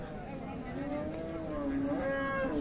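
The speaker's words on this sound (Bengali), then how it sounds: "গাভী কিন্তু দারুণ একটা আছে" A Friesian dairy cow at a cattle market in Raniganj, Dinajpur gives a sustained, wavering moo that carries through the whole stretch, fairly close, over a low background murmur of the market.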